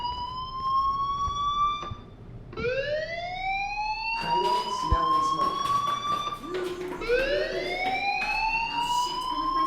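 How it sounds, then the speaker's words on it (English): Fire alarm wailing in the video game Life is Strange, a loud rising-and-falling electronic siren that sweeps up repeatedly, with some voices and scattered noises underneath. "do you hear that fire alarm?"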